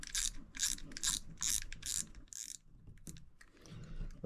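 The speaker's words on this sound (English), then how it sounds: "Tighten up that drag nut there." A spinning fishing reel's drag nut is tightened with a rapid series of about five close, sharp ratcheting clicks, followed by fainter mechanical handling sounds.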